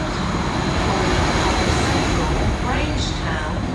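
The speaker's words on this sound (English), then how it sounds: "The train now approaching platform 3 is the 1554 Transport for Wales service to Barry Island." A Transport for Wales train pulls into a platform at Cardiff Queen Street station, giving a steady, loud rolling rumble with a faint high whine throughout and muffled voices in the background.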